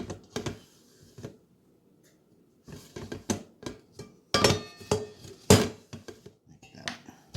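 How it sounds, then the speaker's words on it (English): An Aucma stand mixer bowl twisting into place, a few hard clicks and clinks of metal against the base in short bursts separated by pauses, close and crisp. "The bowl twists on."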